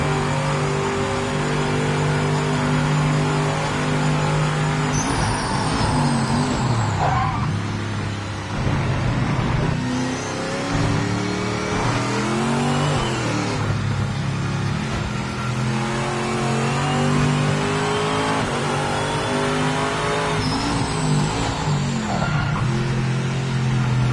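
Race car engine in the Project Motor Racing video game revving and shifting through gears, pitch sweeping up and down repeatedly with continuous loud engine drone and tire noise throughout.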